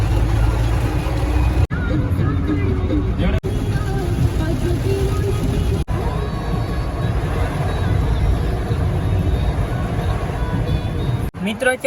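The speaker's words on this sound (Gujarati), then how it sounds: "મિત્રો અત્યારે વરસાદ બહુ જબરજસ્ત છે, તમે અવાજ સાંભળો ખાલી." Heavy rain pounds the roof of a car pulled over at the roadside, heard from inside as a dense, loud, continuous roar with only a few brief breaks.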